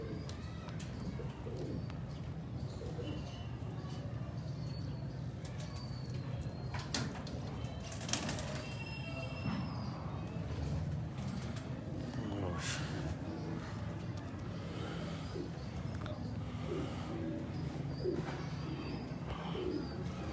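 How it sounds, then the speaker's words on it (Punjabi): Fancy hobby pigeons coo in repeated soft, rolling calls close by, with occasional chirps over a steady low background and quiet voices now and then. "ਇਹ ਕਬੂਤਰ ਹੈਗਾ ਜੀ ਸ਼ੌਕ ਵਾਲਾ ਜੀ"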